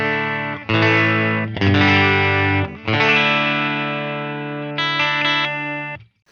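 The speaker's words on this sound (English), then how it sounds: "The US Deluxe normal channel. So this is the Deluxe Reverb" An electric guitar plays through the US Deluxe normal-channel model of a Line 6 HX Stomp, based on a Deluxe Reverb amp. It sounds as several loud, sustained chords that ring out with shimmering overtones, with short gaps between them.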